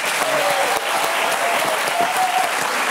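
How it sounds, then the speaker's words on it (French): Studio audience at a French television talk show applauds in a dense, steady burst of clapping, fairly close and even throughout. "Ça s'applaudit."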